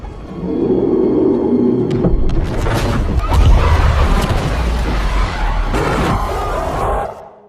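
A loud, sustained rumbling roar of a blast rolls on for several seconds, deep and heavy, with crackling debris noise, then cuts off abruptly.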